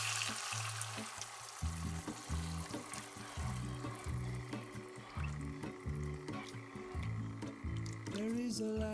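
Coconut milk is poured into a pan of sizzling Thai curry cooked inside a van. A loud, steady frying hiss and liquid splashing continue throughout over a low, throbbing background hum.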